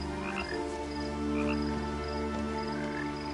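Frogs croak in the video game What Remains of Edith Finch, several overlapping throaty calls repeating in a steady chorus against a quiet nighttime ambience, moderately close with no talking.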